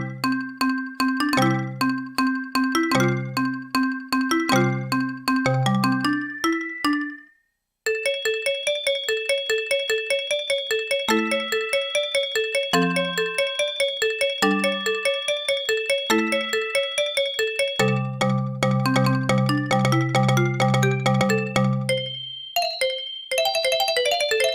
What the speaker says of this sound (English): Nice little Kyoto sound. Some bells.